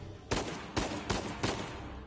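Gunfire in the video game Uncharted 4, four loud, evenly spaced shots in quick succession, each a sharp burst with a short tail.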